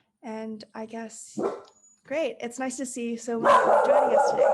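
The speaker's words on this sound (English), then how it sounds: "Sorry about my dog." A pet dog barks and yips several times in quick bursts, close and fairly loud, while a person speaks over and between the barks.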